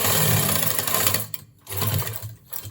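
A sewing machine stitches a pant zipper with a double line of stitching, running in close, steady bursts with two short pauses near the end.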